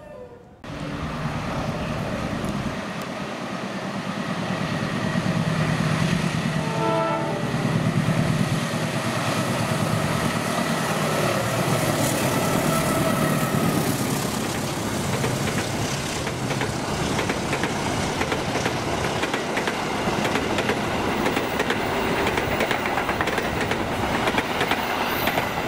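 The Indonesian Bawangkarta train, running as PLB 122B and hauling Sumatra tourist coaches, rumbles past close by at Bekasi Timur with a continuous loud roar and clattering wheels throughout, with a horn briefly sounding early on.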